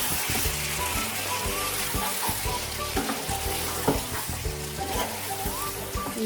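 Mutton keema and soft-cooked tomato being stirred in a pan, with steady close sizzling and frying and repeated scraping and clinking of a spoon against the pan, no talking.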